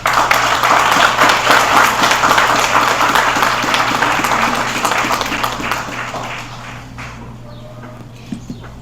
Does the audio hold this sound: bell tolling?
no